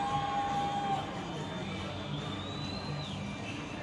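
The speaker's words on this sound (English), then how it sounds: "I hear some whistles, some applause." Spectators at a holiday boat parade on the water in northern Palm Beach County: a distant, steady crowd murmur with a few thin whistles rising above it and faint, spread-out applause.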